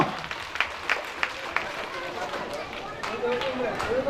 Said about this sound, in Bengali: জোরে একটা হাততালি হয়ে যাক নূপুরের জন্য।